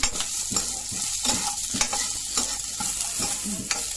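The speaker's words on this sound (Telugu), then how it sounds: "కొబ్బరి అన్నీ వేసుకొని నూనెలో వేయించాలండి." Grated coconut, garlic and spices fry in hot oil for a Thanjavur-style mutton curry, giving a steady close sizzle with regular scraping strokes of a spoon stirring through the pan.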